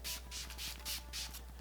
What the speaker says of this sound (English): I'm going to give it a quick little spritz on the face.